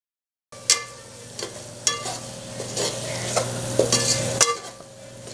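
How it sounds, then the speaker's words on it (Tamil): Shallots, ginger-garlic paste and spice powders such as chilli, coriander and garam masala being sautéed in a pan for a goat intestine curry, a spatula clanging and scraping the pan several times over a continuous sizzle. "இதோட மிளகாய்த்தூள், தனியாத்தூள், கரம் மசாலா சேர்த்து வதக்கணும்."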